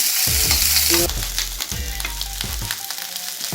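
Whole spices (cinnamon, fennel seeds, cloves) sizzle and crackle steadily in hot oil in a pan, with occasional scraping and stirring thuds, close and continuous.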